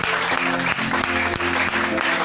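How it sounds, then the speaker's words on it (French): A church congregation claps after a healing testimony, steady dense applause filling the room throughout with a few rhythmic accents, loud and close, with no voices over it. "Applaudissez encore pour ce merveilleux témoignage et plein de technicité."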